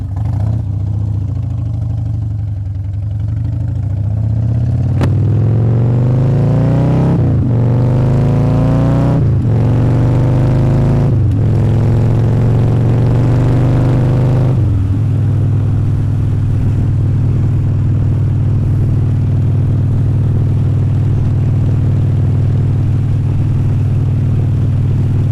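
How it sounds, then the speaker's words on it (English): Motorcycle engine heard while riding on the road, loud and continuous, with several rising revs through gear changes before settling into a steady drone alongside wind noise. "If you could hear this over my bike."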